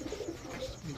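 Pigeons, likely Pakistani Teddy and Giribaz high-flyers, coo softly in a brief, low, rolling call that is fairly faint and close, with no talk over it.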